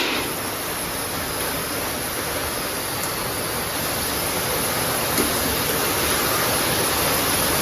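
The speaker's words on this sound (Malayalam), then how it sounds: "സമയത്ത് പുറത്തൊക്കെ നല്ല മഴയാണ്" Heavy rain falling outside a home: a constant, dense hiss that stays at one loud, even level throughout, with no voices.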